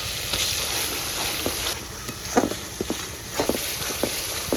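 Oil with onion, garlic, ginger and mustard-green chili pastes frying on a village stove for mustard pabda fish, a steady soft sizzle broken by intermittent stirring scrapes and taps.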